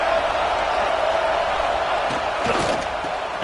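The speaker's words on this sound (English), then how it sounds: "Listen to the crowd energy here in the early going." A football stadium crowd roars with a dense, steady wash of cheering voices that stays loud throughout, with faint swells and whoops rising briefly toward the end.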